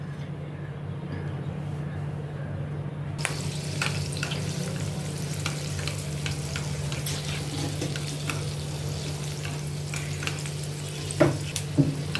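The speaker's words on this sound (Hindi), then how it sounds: "इसमें मैं पैन में ये हरी मिर्ची फ्राई करने के लिए डालती हूँ।" Green chillies fry in hot oil in a pan, a constant close sizzling hiss with scattered sharp pops and light utensil clicks throughout.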